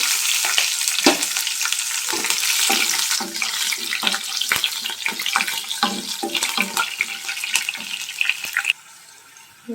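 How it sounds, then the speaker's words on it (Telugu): Chopped green chillies crackle in hot tempering oil with cumin, mustard seeds and fenugreek, a loud, bright, steady sizzle with small pops and stirring scrapes that cuts off abruptly near the end. "ఇప్పుడు మెంతులు ఆవాలు వేగిన తర్వాత తరిగి పెట్టుకున్న పచ్చిమిర్చి వేసుకోండి."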